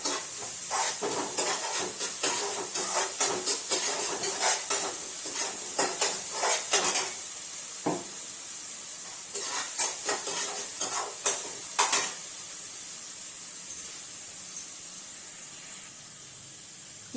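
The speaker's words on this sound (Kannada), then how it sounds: "ಈಗ ಸ್ವಲ್ಪ ಉಳ್ಳಾಗಡ್ಡಿ ಫ್ರೈ ಆದ್ಮೇಲೆ ಈಗ ಹಸಿ ಮೆಣಸಿನ್ಕಾಯಿ ಹಾಕಾಕತ್ತ ನೋಡ್ರಿ." Onions and green chilli paste frying in a pan, a loud close sizzle and hiss with repeated scraping stirs in rhythmic bursts that thin out toward a steadier sizzle.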